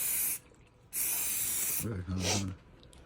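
Two long hissing bursts of aerosol spray, close up, on Chevrolet Blazer doors, separated by a short pause, followed by a brief spoken voice.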